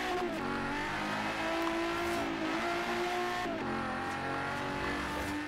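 Regalia car in Forza Horizon 3 driving with a steady, loud engine drone, rising and dipping in pitch through corners, with faint tire noise and no talking.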